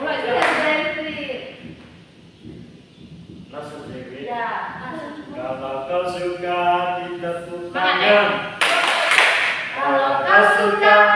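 Children clap along while singing the Indonesian 'Kalau kau suka hati' song in a microteaching classroom, rhythmic claps mixed under loud group singing and voices.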